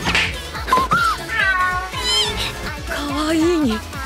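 Several close, clear cat meows, rising and falling, come in quick succession over soft background music, with a brief voice at the start.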